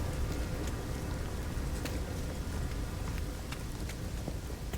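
Steady rain falls in the No Man's Sky video game, a dense continuous hiss with scattered drop ticks, even and unbroken from start to finish, with no voices.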